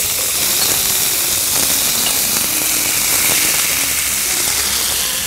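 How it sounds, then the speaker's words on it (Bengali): Potatoes poured into hot oil with asafoetida for a Bengali potato chhechra sizzle with a loud, dense, continuous hiss that stays close and steady throughout. "এবার সোজা আলুটা ঢেলে দেব"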